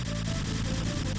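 Rapid, evenly spaced electronic shots firing in a fast burst, dense and continuous like a turbo-fire stream in a game.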